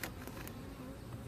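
Bees and wasps hum around a beehive during a hive inspection, a short steady buzz close by with a couple of brief louder passes at the start.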